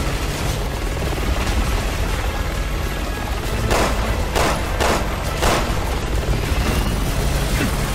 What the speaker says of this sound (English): That's an armored chopper they brought in!